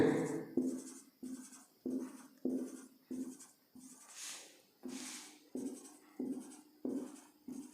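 A pen dotting marks onto a solid-state physics diagram, making a steady series of about a dozen short, close tapping scratches in an even rhythm.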